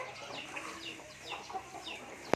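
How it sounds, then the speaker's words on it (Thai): Chickens cluck softly outdoors in a natural rural setting with other birds calling, several short faint clucks scattered across the clip, ending with one sharp click. "เสียงนก เสียงไก่เสียงกานี่ก็คือเสียงธรรมชาติที่นี่มีธรรมชาติมากเลยนะครับผม"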